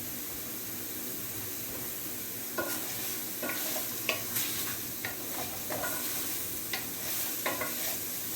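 Mixed mushrooms dry sautéing in a pan, giving a steady soft sizzle and hiss broken by a series of sharp scraping clicks as they are stirred, close and fairly quiet.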